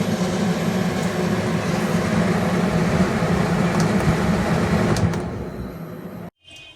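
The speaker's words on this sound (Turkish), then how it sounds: "Klimamızın direkt üflemeye başlıyor." Air conditioner in a converted BMC Levent XL caravan blowing steadily, a continuous broadband whoosh with a low hum that holds for several seconds before dropping away abruptly near the end.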